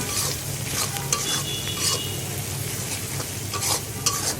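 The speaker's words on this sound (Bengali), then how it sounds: "এখন নেড়ে চেড়ে মিশিয়ে নেব" A spoon stirring ground cumin and coriander into a sizzling dried fish and vegetable curry in a pan, a steady frying hiss with occasional scraping clinks of the spoon against the pot.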